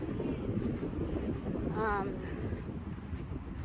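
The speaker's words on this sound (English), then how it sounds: "It's pretty windy today." Steady wind rumbles across the microphone outdoors on a farm beside a cornfield, with a faint distant bird chirp partway through.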